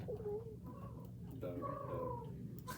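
A human voice imitates a dove, producing warbling, cooing chirps over a low background hum, with brief pauses between phrases.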